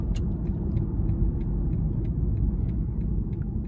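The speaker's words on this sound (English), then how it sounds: "starting the test drive in the 530i, it's a pretty quick car with this twin scroll turbo four cylinder" A BMW 530i with a twin-scroll turbo four-cylinder engine and 8-speed transmission cruises during a test drive, a steady low cabin rumble of engine and road noise with faint clicks and no speech.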